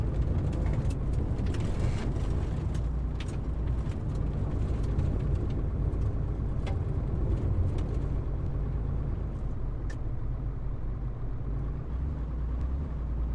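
A car drives steadily in the military video game ArmA 3, its mid-pitched engine drone holding an even, continuous hum with faint clicks scattered on top.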